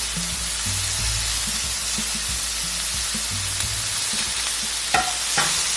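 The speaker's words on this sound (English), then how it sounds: "Give this a quick stir." Fish sizzles and fries steadily on a tawa pan with salt and pepper, while a utensil stirs and scrapes through it in repeated short strokes and a couple of sharper clinks near the end.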